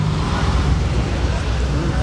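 Steady broadband roar of cars driving past at night in Monaco, a continuous traffic wash under a voice speaking throughout.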